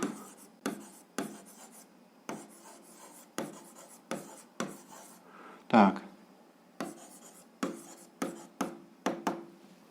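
An algebra equation is written out by hand, pen or chalk strokes rasping in short repeated bursts with brief pauses between them, close and fairly quiet, with one sharper scrape partway through.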